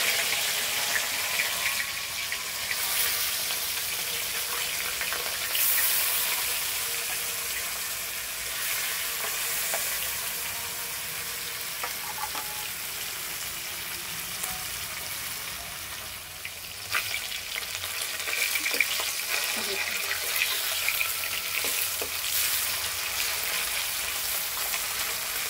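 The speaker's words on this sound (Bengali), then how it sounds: "এবার গরম তেলে সব মাছগুলাই ভেজে নেব।" Whole fish, the larger ones first, frying in plenty of hot oil for a homemade fish curry, giving a steady, close, continuous sizzle with occasional stirring clatter and no talk.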